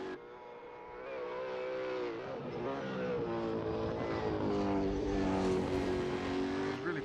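A V8 supercar racing engine in Assetto Corsa, a GT3 race, holds a loud, steady high-revving drone with rising and falling pitch throughout, running alone with no gaps.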